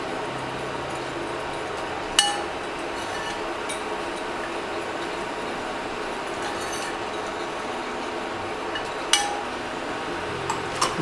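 Homemade natural lotion or balm being stirred after a tablespoon of natural preservative goes in, faint steady scraping with a few light clinks of utensil against the pot.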